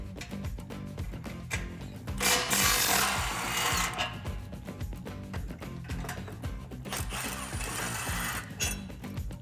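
An impact wrench with a swivel socket loosens 13 mm exhaust flange bolts under a 2011-2014 Ford F-150 5.0L, giving loud rattling bursts with quieter clanking between them.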